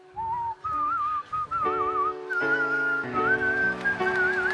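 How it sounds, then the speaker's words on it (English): A man whistles Labour's traditional anthem, a clear solo melody with wavering held notes over soft instrumental backing, close and steady with no talk. "closed the week by whistling Labour's traditional anthem"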